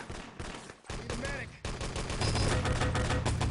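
Dense, sustained automatic gunfire from a 3on3 LAN tournament match of the shooter Enemy Territory, loud and continuous with overlapping bursts, a commentator talking over it.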